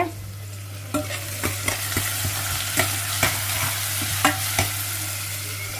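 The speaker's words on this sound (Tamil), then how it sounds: "இப்போ வந்து கறிவேப்பிலையும் போடுறோம் போட்டு கொஞ்சம் வதங்கி வர" Curry leaves sauté in a pan with drumsticks, giving a steady low sizzle, while a spoon makes a series of light, irregular scraping knocks as it stirs, close and alone.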